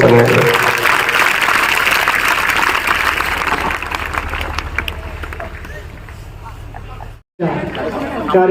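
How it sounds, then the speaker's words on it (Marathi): Audience at a Marathi motivational lecture applauding loudly and steadily, a dense wash of clapping mixed with crowd murmur that gradually thins out before a brief dropout and a short resumption. "साउंड साठी एकदा टाळ्या वाजवा"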